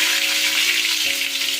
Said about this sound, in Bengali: কড়াতে আমি এক এক করে পটলগুলো দিয়ে দেবো।